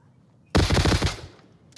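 Rapid automatic gunfire from pre-firing in a competitive online shooter match, one loud sustained burst of fast shots lasting under a second, then a brief echoing tail.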